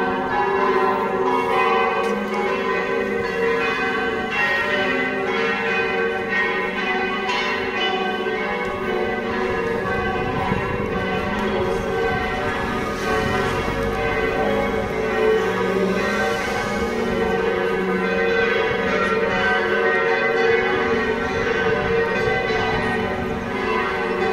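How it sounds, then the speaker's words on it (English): Church bells of St. James in Medjugorje peal continuously and loudly, layered rich ringing tones overlapping throughout, with no talk over them. "the bells of St. James"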